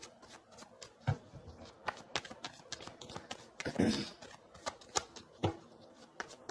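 Tarot cards riffle and snap as they are shuffled and drawn, a quick run of crisp, close flicks and taps with a brief louder shuffle burst partway through.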